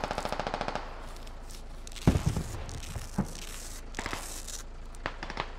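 Gunfire in the military shooter game Squad: a quick burst of rapid automatic shots, then a loud nearby shot followed by scattered single shots and distant cracks, fairly faint overall.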